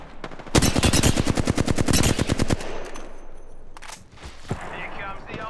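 Rapid automatic gunfire in Apex Legends, a loud, dense burst of shots for about two seconds, followed by scattered distant shots and game effects with quieter background noise.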